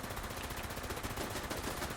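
Automated turrets in Fallout 76 rattle off rapid bursts of gunfire, a dense, fast stream of shots at a fairly steady rhythm, somewhat distant and muffled.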